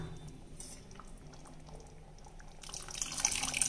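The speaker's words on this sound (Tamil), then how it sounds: "இப்போ புளி ஊற்றிடலாம்மா" Tamarind water pours softly into a simmering kara kuzhambu curry, a faint liquid trickle and bubbling that grows into a brighter splashing stream near the end.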